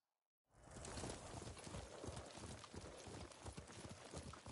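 Steady clip-clopping of horse hooves at a trotting pace in the video game Ghost of Tsushima, close and continuous after a brief silent start.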